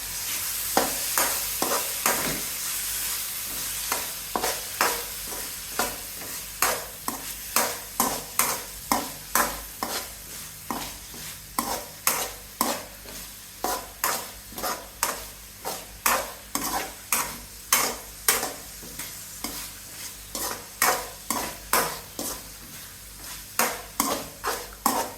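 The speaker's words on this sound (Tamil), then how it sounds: "இப்போ ப்ரானை போட்டுட்டு நல்லா மிக்ஸ் பண்ணிக்கோங்க." Prawns sizzle in a hot pan for a Tamil Nadu-style prawn thokku masala, with a spoon scraping and clinking against the pan in a steady rhythm of stirring strokes over continuous frying.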